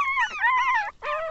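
A pinscher puppy whimpers in a run of high, wavering whines, two close drawn-out cries with a brief break between them, near and fairly loud with no talk over them.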